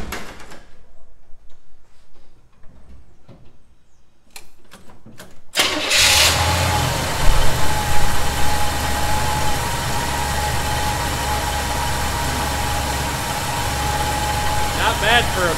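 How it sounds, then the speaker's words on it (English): A barn-find 1971 Chevy C10 pickup with a vacuum leak gets a cold start: a few quiet clicks, then the engine cranks and catches, settling into a loud, steady rough idle close by. "I'm going to start this up and see what we got."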